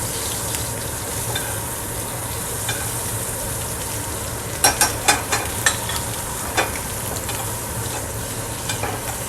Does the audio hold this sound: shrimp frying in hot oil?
yes